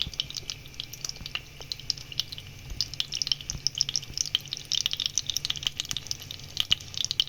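Pork chops frying in a pan: a steady, fairly quiet sizzle dotted with small crackles and pops, with no voices.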